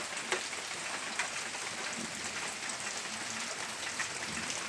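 Steady rainfall in rural Minas Gerais, Brazil: an even, continuous patter at moderate distance with faint scattered drops and no voices.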